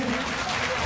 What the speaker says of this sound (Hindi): एक बात इनके लिए जोरदार तालियों से स्वागत करेंगे।